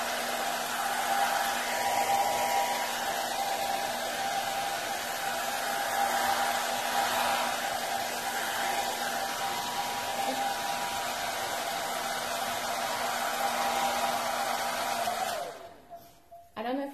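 A hair dryer blows steadily with a constant whirring hum for most of the clip, then cuts off abruptly near the end.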